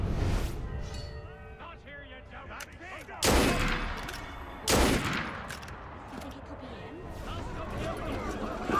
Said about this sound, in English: One of these snipers is going to fire.